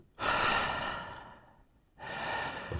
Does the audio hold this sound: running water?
no